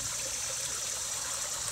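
A waterfall spills into a garden pond, giving a steady, continuous rush of splashing water that stays even and close throughout, with no voices.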